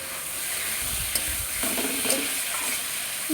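Fried potatoes are stirred in a pan with salt, turmeric and chilli powder for a grass pea dish, giving soft scraping strokes over a low, gentle sizzle.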